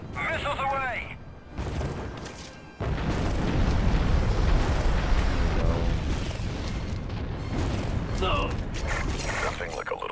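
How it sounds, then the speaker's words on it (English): Missiles launch and detonate in the Star Wars Republic Commando video game: a short voice comes first, then a dense, sustained roar of blasts and rumbling booms fills the rest, loud and continuous. "Missiles away!"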